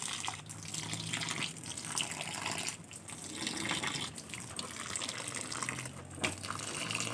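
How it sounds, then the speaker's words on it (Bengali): Water is poured gently onto small flower seedlings in a winter garden, a steady soft trickle and splash that runs continuously at close range with slight swells in flow, with no voices. "চারাগুলোর মধ্যে আমি অল্প করে জল দিয়ে দিচ্ছি।"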